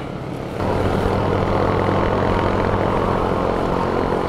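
A Honda Click motorcycle engine starts loud and keeps up a steady, heavy drone close by, holding constant without pauses or talk.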